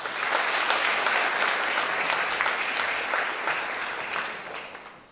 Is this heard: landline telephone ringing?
no